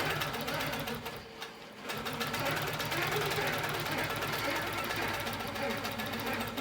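A sewing machine stitching a quilt, a fast rapid rattle of the needle running steadily, pausing briefly near the start before resuming, close by, with a faint voice in the background.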